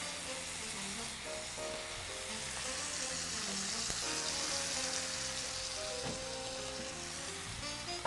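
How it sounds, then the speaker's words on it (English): Salmon sizzles steadily in a hot pan, a continuous crackling fry with faint background tones, no one speaking. "so that is sizzling and looking good"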